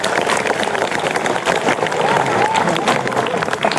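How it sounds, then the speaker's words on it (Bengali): Students at Kendpukur High School clap together in a classroom, a dense, steady patter of many hands at close range, with voices mixed in. "হাত তালি দাও"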